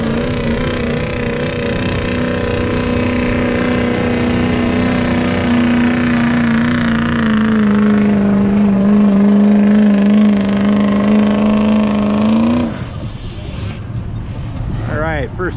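Street class truck engine roars steadily at a truck pull, a loud sustained drone with a slowly falling pitch before cutting off near the end, with a voice talking over it.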